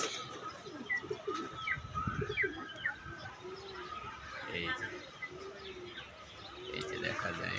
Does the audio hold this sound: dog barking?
no